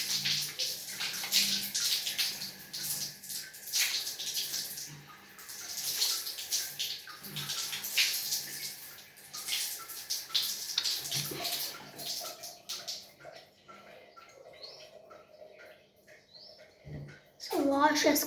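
Tap water runs steadily while someone washes their face at a sink, with a continuous splashing hiss and occasional bird chirps behind it, fading toward the end before a brief louder burst.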